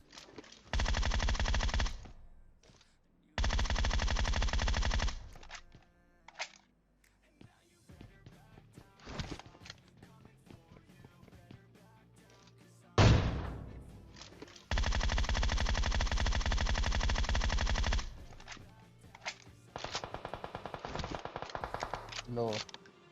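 Automatic gunfire in the PUBG Mobile battle game, with several long sustained bursts of rapid shots, loud and close, separated by quieter stretches of scattered single shots and game noise.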